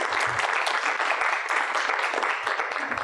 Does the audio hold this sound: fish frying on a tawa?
no